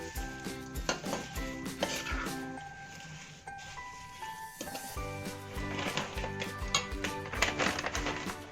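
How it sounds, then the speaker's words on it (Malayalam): Flattened rice (poha) stirred in a pan for a sweet Kerala snack, with repeated scraping and clinking of a spoon against the pan, steady and close, over faint background music. "അപ്പോൾ അത്രയും അവൽ നമ്മൾ അതിലേക്ക് ചേർത്ത് ഇളക്കി ഇങ്ങനെ കൊടുത്തുകൊണ്ടിരിക്കണം"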